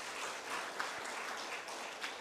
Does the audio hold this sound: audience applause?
yes